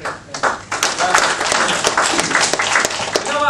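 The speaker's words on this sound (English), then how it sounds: "I don't like mushy clapping." Audience clapping in a room during a life-skills talk, a dense steady burst of many hands sustained throughout at moderate loudness, with no one speaking over it.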